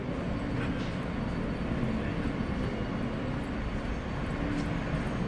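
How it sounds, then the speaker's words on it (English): A subway train runs with a steady, loud, dense rumble and rattle from start to finish, the noise of riding inside the car. "I'm trying to get to the front of the train."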